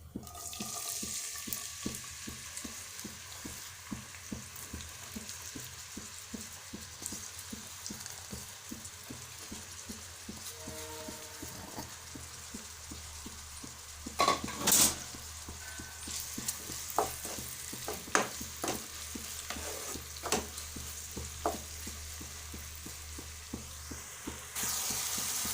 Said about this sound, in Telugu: ఆయిల్ వేడైనాక ఒక మీడియం సైజు ఒక 3 ఆనియన్స్ తీసుకొని వేసుకుంటున్నా